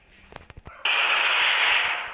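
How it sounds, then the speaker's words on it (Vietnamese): An artillery shell is launched in the Melon Playground video game: a few quick clicks lead into a sudden loud blast that trails off into a sustained rushing roar. "Đấy chính là đạn pháo."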